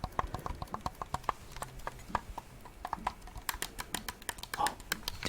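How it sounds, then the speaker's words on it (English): Shoulder buttons on an Xbox One game controller click in a quick, uneven series of crisp, close plastic taps, sounding alone with no talking. "These were pretty clicky and nice. The shoulder buttons, I think they're called."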